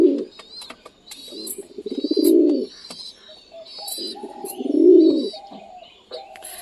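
Pet pigeons, including satin pigeons, cooing back and forth to each other up close, with repeated throaty rolling coos and lighter chirps in between.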